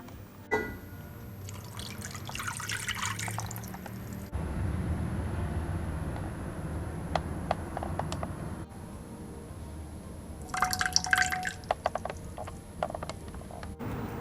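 Water and vinegar are poured into a cooking pot for a chemistry experiment, with two splashy pouring bursts separated by quieter clinks, drips and handling noises; no one speaks.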